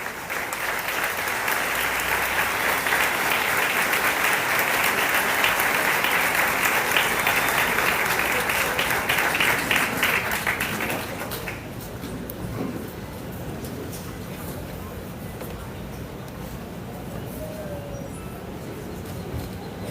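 An audience applauds at the opening ceremony of the Guatemala book fair, Filgua 2025. Dense, sustained clapping fills the hall, then thins to a lighter patter partway through.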